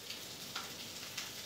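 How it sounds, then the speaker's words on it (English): Pork chops sizzle and crackle steadily in a hot pan, a soft continuous hiss with occasional small pops, no talking. "sizzling pork chops cooking."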